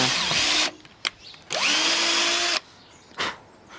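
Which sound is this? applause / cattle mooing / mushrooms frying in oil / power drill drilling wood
power drill drilling wood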